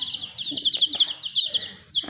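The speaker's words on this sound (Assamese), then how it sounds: "আজি আমাৰ মুৰ্গী পোৱালিকেইটা দেখুৱাম" High, rapid peeping chirps from small chicks run almost continuously, close by, with a few faint low sounds underneath.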